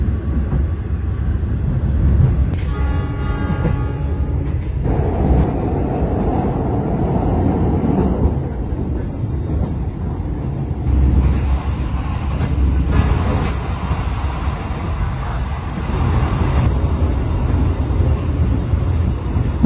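The Argo Merbabu passenger train runs from Semarang to Jakarta, its steady loud rumble and rail clatter heard from on board, with shifting tones and no talk.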